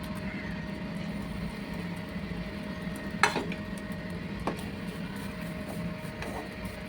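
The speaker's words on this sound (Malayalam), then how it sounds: "അതിന് വേണ്ടിയുള്ള തേങ്ങ നമുക്കൊന്ന് വറുത്തെടുക്കാം" Grated coconut dry-roasting in a pan for a fish curry, heard as a steady low rustle with a few sharp spoon scrapes and clicks against the pan, fairly quiet and without talk.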